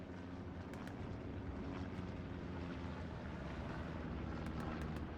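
A recon plane drones overhead in a WWII video game, a steady low propeller hum with faint wind and a few soft clicks scattered through it, distant and fairly quiet.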